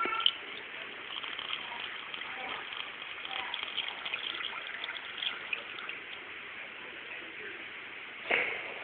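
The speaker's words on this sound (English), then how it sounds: "you're going to pour the juice into your funnel." Watermelon and strawberry juice for homemade wine pours steadily into a funnel set inside a nylon stocking, a continuous close gushing and splashing stream that ends with a small final splash.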